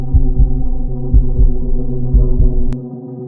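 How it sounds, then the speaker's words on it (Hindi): Heartbeat sound effect for a horror story, a loud low throbbing pulse of repeated muffled thumps over a steady hum, ending with a short sharp hit before falling quiet. "चारों का दिल उतनी ही तेजी से धड़कने लगा"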